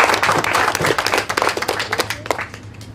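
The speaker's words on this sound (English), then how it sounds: "Round of applause for you guys." Camp attendees break into a lively round of applause and clapping in a facility, dense overlapping claps filling the room for several seconds, with a few voices mixed in.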